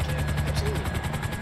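Helicopter in a video game, with a steady rotor chop and hum sitting under the player's voice and holding through the brief stretch.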